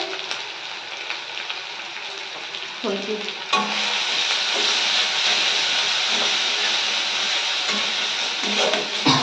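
Chopped onion and ginger sizzle and crackle steadily in a hot pan, the frying hiss jumping louder partway through and then holding as a dense, close, continuous sizzle with occasional stirring clatter, no talking.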